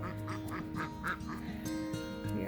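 Ducks at a ranch pond quack repeatedly in a busy, overlapping chorus, fairly close and steady throughout, with no one talking.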